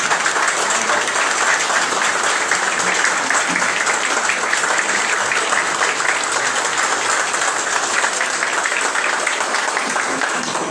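A standing ovation at the swearing-in ceremony of a new water utility director, sustained, even, dense clapping from a large seated-then-standing audience, continuous and fairly loud with no speech.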